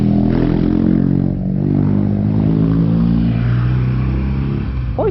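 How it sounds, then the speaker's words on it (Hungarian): A BMW GS motorcycle engine runs loudly nearby with a steady, throaty, low droning note. It swells slightly toward the end, and a brief higher whine rises at the very end. "Hogy tud így szólni az a motor"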